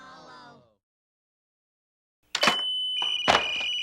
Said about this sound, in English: It's making crazy noises. Those crazy noises are computer signals.